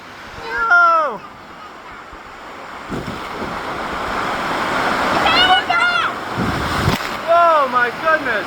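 Water crashing down on riders at a Typhoon Lagoon water park, a long rushing splash and surf-like roar under wind buffeting, with shrieks and excited voices at the start, middle and end.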